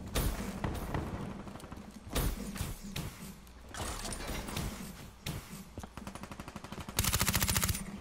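Rapid bursts of automatic gunfire from a Call of Duty Black Ops 3 match, with repeated loud shots in clusters and a dense sustained burst near the end.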